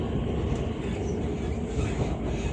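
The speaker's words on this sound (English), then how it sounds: "This is an Elizabeth line service to Shenfield via Heathrow terminals 2 and 3." An Elizabeth line train heading toward Heathrow terminals 2 and 3, a continuous loud low rumble and rolling roar from inside the carriage, with steady track noise and no talk.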